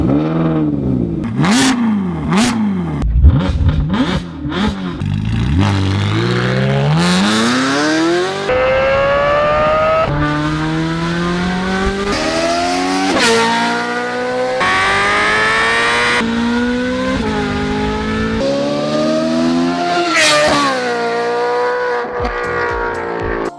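Ferrari California engine in Need for Speed Shift, loud and close, revving up through repeated gear changes, each climb ending in a brief drop before the pitch rises again, with tire squeal mixed in.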